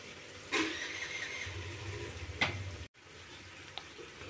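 Andhra-style drumstick curry fries in oil in a pan, giving a faint, steady sizzle with a couple of brief clinks of stirring. No one speaks.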